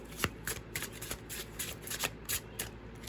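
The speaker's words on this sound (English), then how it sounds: "Draw a few more cards." A deck of tarot cards is shuffled and drawn in quick, crisp riffles and slaps, close to the microphone, with a few brisk bursts and no speech.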